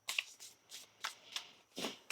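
A deck of tarot cards is shuffled by hand in a run of about six quick, crisp riffling bursts, close and fairly even in rhythm, with no voices.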